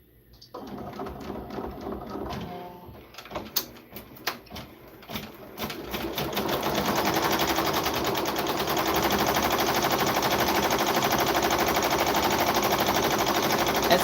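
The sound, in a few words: embroidery machine stitching an appliqué patch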